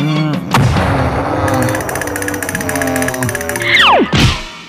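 A cartoon cannon fires with a booming blast, followed by a rapid falling whistle and a final thud.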